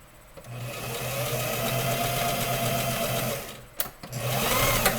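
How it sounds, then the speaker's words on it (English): A sewing machine back-stitches through fabric at a garment gusset, running in a steady, fast mechanical whirr close by, briefly pausing near the end before starting up again. "Now we're going to back stitch, bringing it out."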